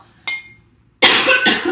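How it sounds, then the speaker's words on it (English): A brief burst around a quarter second in, then a loud, close cough with two bursts after a short pause. "I'm always so afraid to cough"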